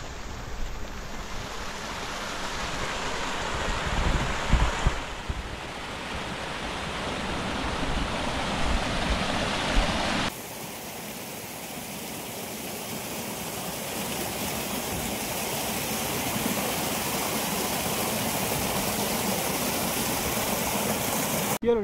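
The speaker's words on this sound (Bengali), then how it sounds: "দেখুন ঝর্ণা," Steady rushing water from a mountain waterfall and stream along the Panchachulli base camp trek, a broadband roar that shifts in tone partway through, with no voices over it.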